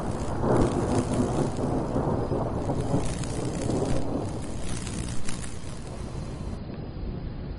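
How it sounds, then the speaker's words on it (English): Low thunder rolls outside during a storm, a broad rumbling swell that peaks early and slowly fades over several seconds, with steady rain hiss underneath and no voices. "a low rumble of thunder can be heard outside"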